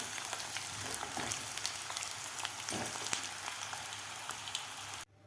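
Garlic and peanuts fry in oil with a dense, steady crackling sizzle and scattered sharper pops, close and even in level, cutting off abruptly just before the end.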